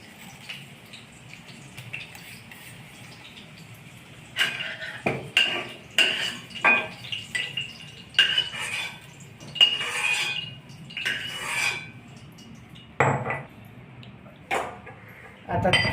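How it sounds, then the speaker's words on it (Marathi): Green chilies and garlic crushed by hand for a chutney, giving a run of sharp, irregular knocks and scrapes that begins after a quiet stretch and continues close by. "आता हे काढून मिरच्या आणि लसूण सुद्धा ठेचून घेणे."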